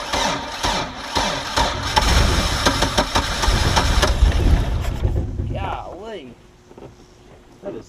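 A Mercury MerCruiser 3.0 inboard engine in a Stingray boat, newly fitted with a fuel pump and carburetor after sitting nine years, runs with a loud, rough, close idle that drops off toward the end, with someone talking over it.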